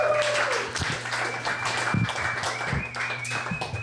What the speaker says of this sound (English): big round of applause for Nick Cartwright